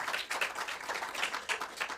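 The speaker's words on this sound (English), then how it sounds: "Can I ask for a round of applause for our speakers?" An audience claps for the speakers at a publishing event, a modest round of applause heard at a distance, with individual claps pulsing in an uneven rhythm.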